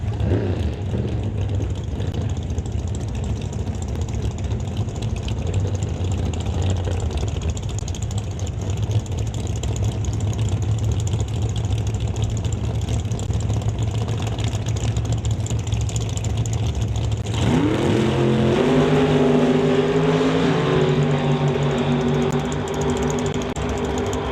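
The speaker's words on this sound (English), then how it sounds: "So Scott Robinson heading down track, gets to the stripe" A 1992 Firebird door-slammer drag race car heading down the track in Canada West qualifying: a continuous loud engine drone, steady at first, then shifting into a higher, rising tone as it pulls away.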